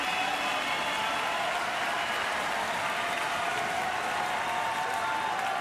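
A large crowd at a para judo tournament roars and claps in steady support of a fighter, a broad continuous wash of cheering that holds at an even level throughout, with no distinct voices standing out.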